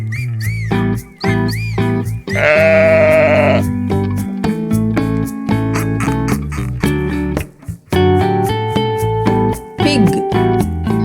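A sheep bleats in a long, wavering cry, heard among bright tuneful music and whistle-like tones in a lively children's farm animal piece.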